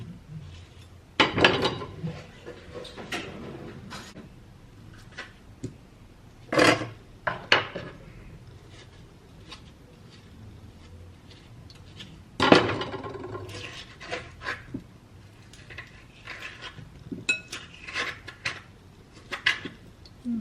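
Salad is tossed with mayonnaise in a bowl, with scattered clinks and knocks of a utensil against the dish and quiet stretches in between.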